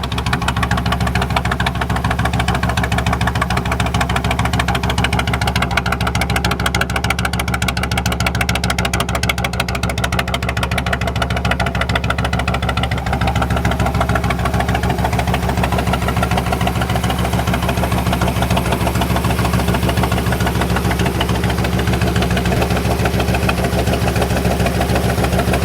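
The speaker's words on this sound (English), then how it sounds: "got the Road King started. All she needed was a little charge. Bike is sounding and looking amazing" A Harley-Davidson Road King motorcycle engine idles steadily and loudly throughout, a low, even rumble with a constant throb and no talking.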